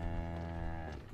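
A cow moos in the horror video game Zoonomaly, producing a single sustained, rich low call that holds steady for about a second before trailing off, heard alone at moderate volume.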